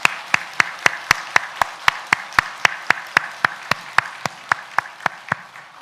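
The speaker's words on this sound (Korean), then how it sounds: "우리 감사의 박수를 먼저 올려 드리도록 하겠습니다" A church congregation claps together during a worship service, producing sharp, evenly spaced claps at about three per second, steady and fairly loud throughout, with no talking.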